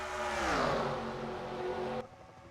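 Stock cars in a racing video game run nose to tail in a multi-car tandem at Daytona, a loud whining engine drone with a falling pitch sweep as they pass, cutting off abruptly near the end.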